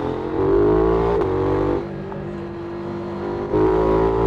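A KTM 990 Duke motorcycle revs hard as the throttle is opened, its engine note climbing and holding loud and close, easing off briefly, then rising again.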